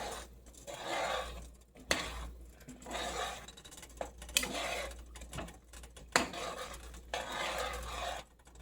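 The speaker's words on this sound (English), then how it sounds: "I'm going to go in with my butternut squash puree. Give that a good stir." A spoon stirs butternut squash puree into a pot of vegan lentil soup, giving soft repeated scraping and sloshing with a few sharp clinks against the pot, quiet and close.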